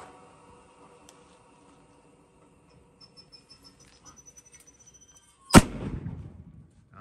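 A bazooka-style bird scarer in a passion fruit plantation fires one sharp, very loud blast after a quiet stretch of ticking and faint insect chirps, its echo decaying over the following second.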